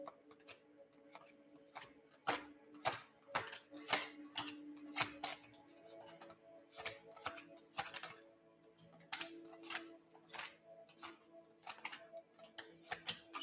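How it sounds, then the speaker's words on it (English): Tarot cards shuffled loosely and messily by hand close by, giving a quick, irregular run of crisp flicks and taps over a faint steady hum. "I'm just gonna do a messy shuffle."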